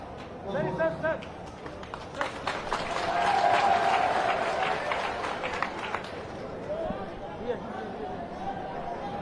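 A crowd claps at a political event in Dewas district, Madhya Pradesh, with applause building to a peak midway and then tapering off, mixed with crowd chatter and voices.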